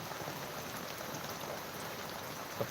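Out-of-season winter rain falls on a village in Pardi taluka, Gujarat, making a soft, even hiss of drops that carries on without a break.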